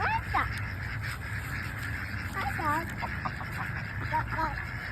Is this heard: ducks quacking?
yes